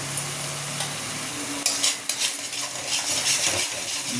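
Tangra fish curry masala of tomato, green chilli, salt and turmeric is fried in a pan with a loud, continuous sizzle, while a spoon stirs and scrapes against the metal pan up close. No voices are heard.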